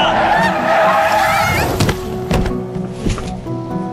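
A car in a Hong Kong drama scene brakes with a short skid and strikes a pedestrian, a brief squeal followed by a dull thump and a scattering of impact noises, loud and close, with a voice crying out early on.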